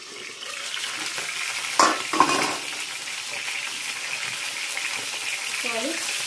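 Brinjal pieces fry in hot oil, giving a steady crackling sizzle with a couple of sharp clatters of a pan or spoon near the start.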